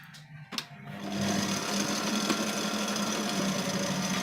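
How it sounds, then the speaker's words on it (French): An electric mixer whirs steadily through chocolate cake ingredients, starting after a click and a brief rattle, then a continuous buzzing motor drone close by. "on va mélanger les ingrédients"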